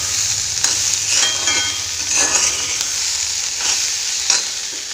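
Food frying in an iron wok crackles with a loud, continuous sizzle, punctuated by repeated scraping strokes of a spatula stirring the pan.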